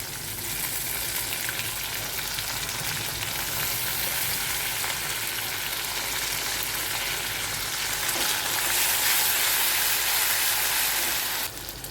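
Soaked soybeans with ginger-garlic paste fry steadily in a hot pan, a dense, even sizzle lasting throughout with faint stirring, close and moderately loud.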